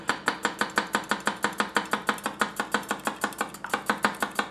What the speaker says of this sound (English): We'll see if the tip chops here.